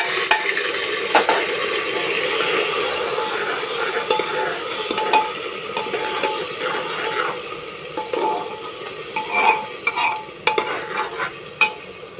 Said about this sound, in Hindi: अब हमने इसमें प्याज भी डाल दिए हैं। इनको थोड़ा सा फ्राई कर लेंगे।